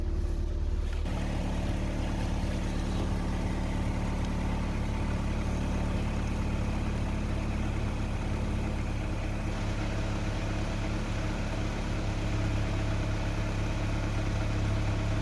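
A 2007 Saturn Ion with a low-voltage throttle position sensor fault idles after starting, giving a steady, loud engine drone that runs without a break and has no talk over it.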